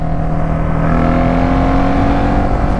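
A Polaris Predator 500 ATV engine revs hard and steadily, a loud close droning roar holding a high pitch with no talk over it.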